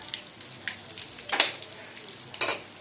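Soya balls frying in a small pan crackle and sizzle softly while being stirred, with a few sharper bursts of scraping and spattering.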